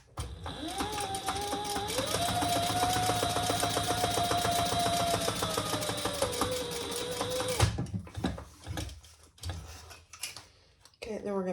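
A sewing machine top stitching a crossbody bag runs steadily for about seven seconds in a fast, even rattle, then stops, leaving handling clicks and a short voice.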